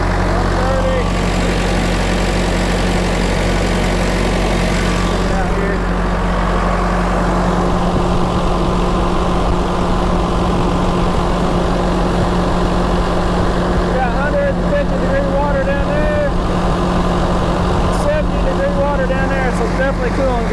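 The rebuilt engine of a Deere 455E track loader idles close by, a loud, steady droning rumble that carries evenly throughout with no change in pace.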